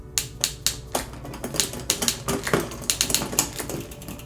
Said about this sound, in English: For this adjustment, shift up into the biggest cog on your cassette.